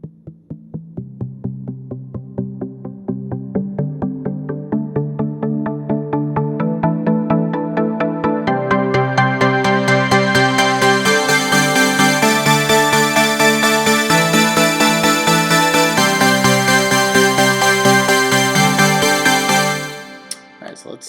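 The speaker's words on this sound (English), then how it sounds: "I'm going to show you how to make a pretty good uplifting trance synth that will sound something like this" Uplifting trance synth built in Reason plays a bright chord progression that swells and opens up as it builds, loud and sustained, ending with a brief cutoff.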